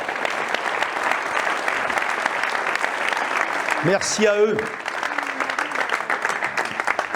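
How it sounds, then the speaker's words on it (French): An indoor audience at a municipal New Year's greetings ceremony in Coutances mer et bocage gives volunteers steady, sustained applause, with someone speaking briefly over the clapping. "Donc on peut les applaudir,"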